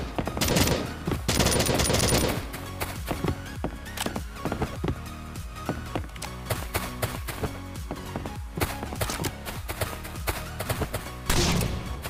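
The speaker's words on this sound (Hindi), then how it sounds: "तो भैया मारो बजूका सेल," Bazooka shells fired at a base during a raid in the Last Day Rules Survival video game, a rapid series of sharp blasts and thuds in quick succession, loud and continuous with no talking.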